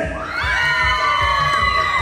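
Couples in a contest at an event in Springdale, Arkansas shout loudly together while a crowd cheers around them, in a sustained and dense roar of excited voices.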